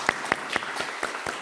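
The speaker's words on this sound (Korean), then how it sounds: "박수로 환영하겠습니다." A church congregation at a Korean Sunday service claps in welcome of visitors: a short run of about six evenly spaced, crisp claps.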